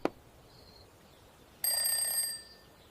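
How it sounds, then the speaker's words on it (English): A brief electronic alarm clock beep-ring sounds for under a second after a quiet pause, a bright steady tone ringing alone at moderate volume. "I get up as soon as my alarm rings."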